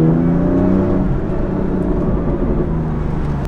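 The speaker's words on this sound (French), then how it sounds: "cet échappement full titane de M Performance, il est juste impressionnant de sonorité, et il rend encore meilleur et encore plus brutal la sonorité de la M4" BMW M4 Competition fitted with an M Performance titanium exhaust, a loud, steady deep engine drone held close and constant throughout, with no voices over it.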